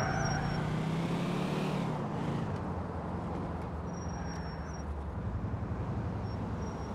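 Car engine droning steadily while driving in the video game GTA 4, a continuous low rumble with road noise and no pauses.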